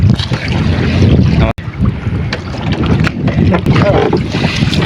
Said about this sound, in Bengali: ওই যে আমাদের ট্রলার ওটা আমরা নিয়ে আসছি ভিডিও করার জন্য